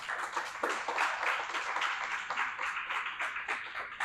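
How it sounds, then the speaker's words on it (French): Audience applause at an entrepreneurship workshop forum: steady, dense clapping from a seated crowd lasting about four seconds, moderately loud and continuous with no talking over it. "On peut l'applaudir."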